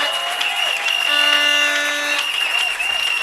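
A church congregation applauds at a thanksgiving service, a dense, steady wash of clapping held throughout, with sustained musical tones running beneath it.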